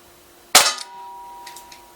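A Crosman 357 .177 caliber CO2 pellet revolver fires a single sharp, loud crack followed by a short metallic ring and faint clinks as it fades.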